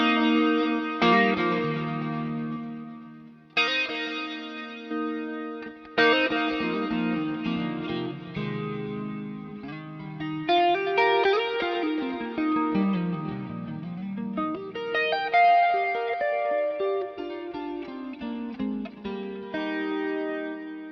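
Electric guitar played through a boost pedal placed after the amp, a sustained distorted tone with chords and single-note lines ringing out loud and alone, with slight echo and chorus-like shimmer.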